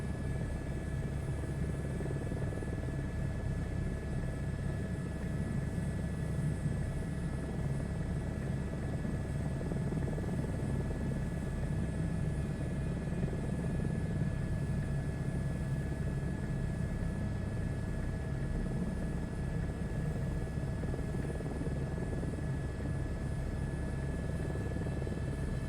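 In Microsoft Flight Simulator 2024, a helicopter hovers in place, its rotor drone a steady, loud, low rumble with a faint whine above it that does not change over the whole stretch, with no talking.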